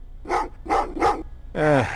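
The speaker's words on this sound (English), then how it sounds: "Well, what's with the dogs?" Dogs bark in the Terminator Resistance video game: three evenly spaced sharp barks, then a longer growling yelp, close and loud against a low background hum.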